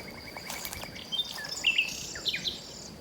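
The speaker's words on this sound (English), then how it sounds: "there's a golden oriole in this oak tree" Golden oriole singing from an oak tree on a Portuguese homestead, a few short clear whistled phrases rising out of a quiet rural background with faint insect hum.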